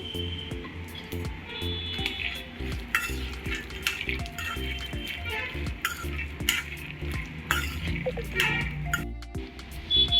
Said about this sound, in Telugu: వేరుశనగ పప్పులు కూడా మీడియంలో పెట్టి వేయించుకుందామండి